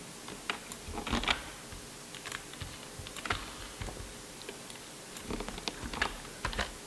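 Quick bursts of keystrokes on a computer keyboard while a formula is entered into a new spreadsheet column, clicking in uneven clusters with short pauses between them, close and alone at a low, quiet level.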